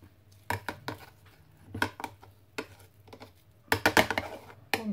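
Meat filling for pâté chaud being mixed in a bowl, with intermittent clacks and scrapes of a utensil against the dish arriving in short bursts, close and quiet.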